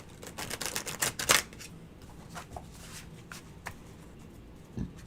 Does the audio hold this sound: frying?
no